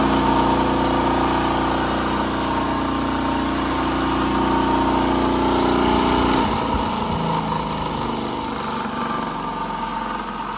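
An old bench grinder runs steadily and loud, a continuous motor whine with a hum that shifts in pitch about two-thirds through as if winding down or loading, with no talking.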